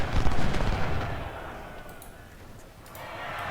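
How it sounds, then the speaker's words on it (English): Booming volleys from 12-pounder cannons in a Civil War battle game, a loud dense burst of firing at the start that settles into a rumbling background, with sharper reports returning near the end. "And 12 pounders, open fire."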